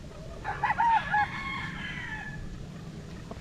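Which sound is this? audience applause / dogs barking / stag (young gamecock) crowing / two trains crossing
stag (young gamecock) crowing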